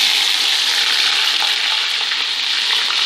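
Onions sizzle in hot oil with a loud, dense, continuous hiss close at hand, and no one speaks.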